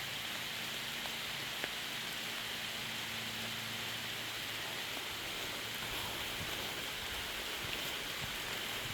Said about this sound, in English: Look at the raindrops hitting the lake.